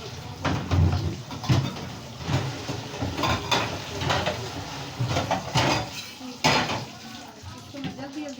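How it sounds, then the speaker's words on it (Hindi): Clattering of metal pots, pans and utensils being washed by hand in a home kitchen, with repeated knocks and scrapes at an irregular rhythm, close and fairly loud. "ये बर्तन हैं 3-4, इसको धो लूँ जल्दी जल्दी"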